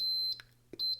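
A multimeter gives a continuity beep while testing a Telefunken Gavotte 5691 radio: a quiet, steady high tone cuts out, gives a short blip, then sounds again after a brief gap. No one speaks.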